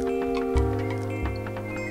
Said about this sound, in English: Oh, it's daytime. And there's crickets.